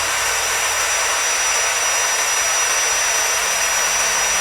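A cordless 16V impact drill, the HL 812 V2, spins at its lowest speed setting with a steady, close, even whirr that stays constant throughout and has no voices over it.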